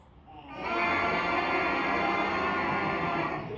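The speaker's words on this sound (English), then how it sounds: "if they produce a sound on just their mouthpiece," A brass mouthpiece buzzes alone as one sustained, raspy tone, swelling in quickly and holding steady for a few seconds before fading slightly.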